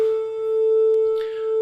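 Pure 440 and 441 hertz sine tones play together, their combined sound slowly swelling and dipping in loudness about once per second, a steady wavering beat.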